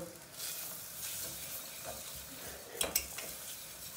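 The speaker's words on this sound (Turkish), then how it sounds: "Salçayı da şöyle bir karıştırıyoruz" Tomato paste sizzles softly in a pan over low heat with mint and tarhana as a spoon stirs it, leaving a faint hiss and a couple of brief scraping clinks.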